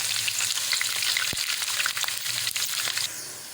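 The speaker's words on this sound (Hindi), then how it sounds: "अब प्याज शामिल कर रहे हैं हम इसमें," Chopped onion and cumin seeds going into hot oil for moong dal, producing a steady close sizzle and crackle with light stirring throughout.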